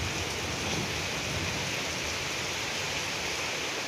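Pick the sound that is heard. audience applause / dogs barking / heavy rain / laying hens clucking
heavy rain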